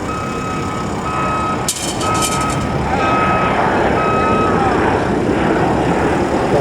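Truck reversing on a Los Angeles drain and water recycling construction site, its steady repeated backup beeps sounding over a constant broad rumble of machinery and engine noise, with a short clatter early on.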